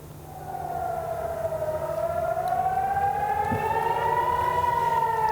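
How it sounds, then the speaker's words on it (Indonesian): An air raid siren in Nahariya, Israel, wails out during a rocket attack, one rising and falling tone swelling gradually louder across the open air, with no talk. "Sirine pun menggema membuat warga Israel panik."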